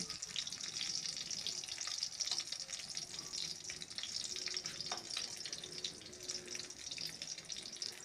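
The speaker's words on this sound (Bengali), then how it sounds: "মা এরকমভাবেই খুন্তি দিয়ে মাছগুলোকে চেপে একটু তেল ঝরিয়ে নিয়ে একটা থালায় এগুলোকে তুলে রাখছে" Fried hilsa fish pressed with a metal spatula in a pan of hot oil, giving a constant bright sizzle with light scraping and watery crackle, close and fairly quiet, no voices.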